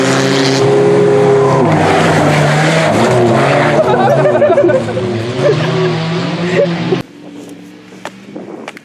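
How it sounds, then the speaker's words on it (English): More cars arrive at a Rivers race event, with loud revving engines and droning passes that rise and fall before cutting off abruptly, leaving quieter background sound and some talk. "Sounds like some more cars are showing up"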